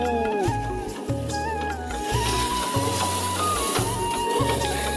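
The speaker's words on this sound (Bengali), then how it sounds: "ধান ঝাড়ার তো আরম্ভ হয়ে গেছে" A paddy threshing machine runs out in a village field, a loud steady mechanical drone that pulses in a rhythmic chugging beat, with faint voices mixed in.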